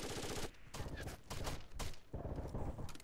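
Rapid gunfire in Rainbow Six Vegas 2, several dense bursts of shots separated by brief gaps, loud and close.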